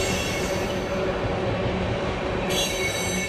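A Seaboard Coast Line railroad train at the washer in Hialeah, 1970, rolls past close and loud, wheels grinding and squealing on the rails in a dense steady roar.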